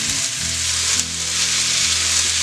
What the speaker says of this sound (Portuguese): E vamos fritar até que o tomate amoleça.